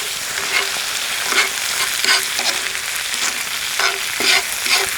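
Leftover sausages fry in a cast iron pan over a campfire, giving a steady loud sizzle with crackling bursts and pops throughout, close to the listener, with no voices.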